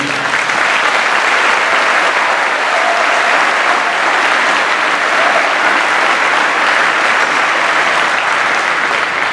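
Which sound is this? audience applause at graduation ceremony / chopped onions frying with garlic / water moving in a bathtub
audience applause at graduation ceremony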